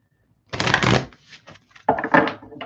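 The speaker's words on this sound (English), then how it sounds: "let's shuffle these cards here" Two quick bursts of tarot cards being riffle-shuffled close up, a crisp fluttering rattle, then a short pause of soft handling between them.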